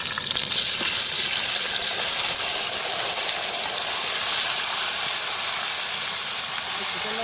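Hariyali chicken hits a hot pan and sizzles, a loud steady frying hiss that starts abruptly and continues without a break.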